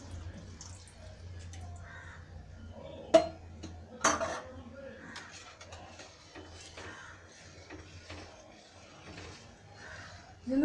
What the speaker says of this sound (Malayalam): ഇളക്കി കൊടുത്തുകൊണ്ടിരിക്കണം